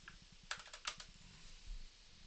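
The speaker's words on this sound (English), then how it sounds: "I go to enter command and I type in sleepy" A computer keyboard typed on to enter a short command, heard as a quick cluster of crisp key clicks, then a pause and a final keystroke, close and quiet with no speech.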